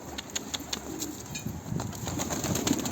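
Pigeons at a loft coop give soft coos mixed with brief wing flaps and rustling, fairly faint over a steady high hiss.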